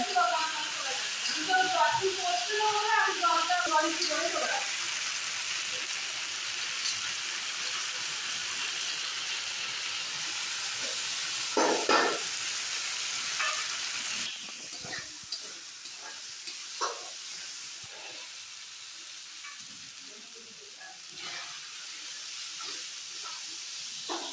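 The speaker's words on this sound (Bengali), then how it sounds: "মশলাটা কষানো হয়ে গেছে" Spices fry in a pan for khichdi with a soft, continuous hiss and sizzle, occasional stirring clinks, and people talking nearby over the cooking.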